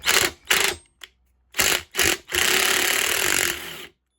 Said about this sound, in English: we can put our impact on it and drill it out